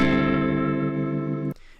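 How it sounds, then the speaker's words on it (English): A heavily distorted, sustained buzzing tone with dense harmonics from the RC-20 Retro Color plugin's heavy distortion setting, loud and steady for about a second and a half before cutting off abruptly. "If you want a crazy distortion, you can go with heavy."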